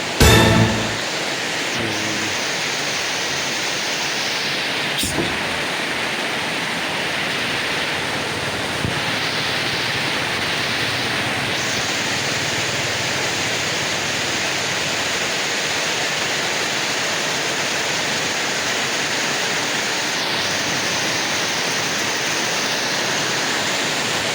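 Heavy afternoon rain pours down in a steady, dense hiss that stays loud and unbroken throughout, with no voices over it.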